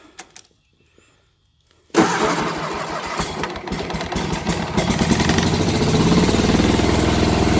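A 1989 Cub Cadet 2072 garden tractor engine, started cold without choke, catches after a quiet lead-in, then rises into a loud, close, steady idle that grows slightly stronger as it settles.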